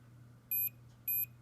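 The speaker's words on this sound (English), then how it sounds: "You'll hear the beeps." Two short, high electronic beeps from a cassette tape drive resetting, evenly spaced, over a low steady hum.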